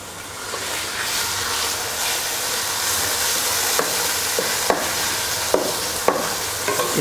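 Minced meat fries with onions in a pan, a steady close sizzle and hiss broken by several sharp clicks and scrapes as a spoon stirs it, with no talking.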